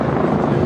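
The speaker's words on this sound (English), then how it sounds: "Helicopter right up out there, look." A helicopter flying overhead during an outdoor street march, a steady loud rotor drone filling the short moment with no gaps.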